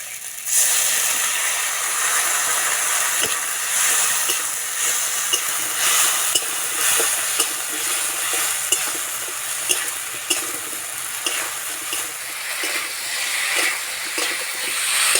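Spice paste and potatoes frying in a pan give a loud, hissing, steamy sizzle that runs on without a break, with light scraping stirs throughout and no voices.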